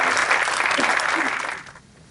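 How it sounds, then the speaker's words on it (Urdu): An audience at an Urdu Academy evening applauds to welcome someone speaker, a dense burst of clapping from many hands that fades out over about two seconds. "آپ کی تالیوں کی گونج میں تشریف لاتی ہیں محترمہ سلمیٰ"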